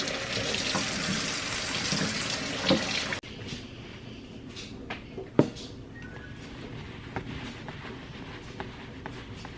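Farm eggs are washed under a running kitchen tap: a strong gush of water for about three seconds, then a softer, steadier flow with a few light knocks and splashes.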